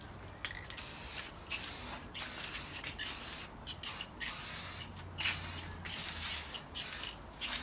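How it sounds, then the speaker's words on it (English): An aerosol can sprays clear coat onto black moldings of a Mitsubishi 3000GT SL in repeated short hissing passes separated by brief breaks, close and fairly quiet, with no talking. "we're gonna try to use the clear coat now to help out"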